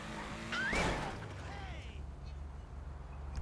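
A car driven in a video game running an anime mod: a low engine rumble with a brief rising tire squeal and a short loud burst near the start, then a steady lower drone.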